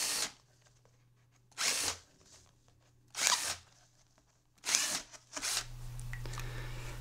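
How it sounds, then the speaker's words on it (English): A power drill with a 3/8 inch bit bores into a guitar body in four short bursts, each under a second, separated by pauses with a faint low hum. "I'm just going to use a 3/8 inch drill bit here."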